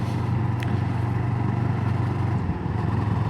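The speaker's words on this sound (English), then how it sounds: "You get a bit more deep rumble from the exhaust." A CFMoto 700CLX Sport motorcycle in sport mode gives a steady, deep exhaust rumble while riding, loud and continuous, with no talking over it.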